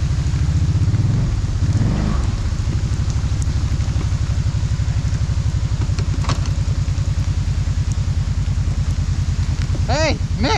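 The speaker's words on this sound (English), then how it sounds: "Mick, remember how they said it wasn't gonna rain?" Steady rain pours down during a storm while dirt bikes are ridden outdoors, a dense continuous wash with a loud engine drone running beneath it and no voices.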